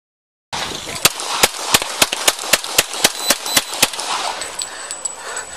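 Gunshots fired by police during a pursuit that ended in an officer-involved shooting in Escondido, heard as about a dozen sharp, evenly spaced cracks in a quick volley over a noisy radio-like hiss, with no talk.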